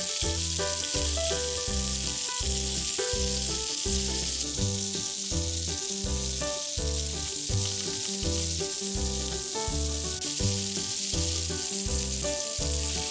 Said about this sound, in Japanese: ピーマンはお肉と一緒に焼くと美味しいですよね